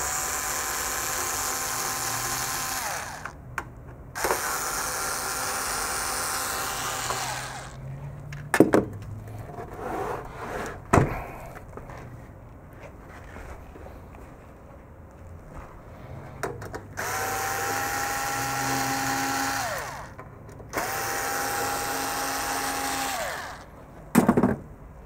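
Screws come out of an EMC VPLEX VS2 storage unit during a teardown, as a power screwdriver whines in several sustained bursts, separated by quieter handling, metallic clicks and clunks nearby.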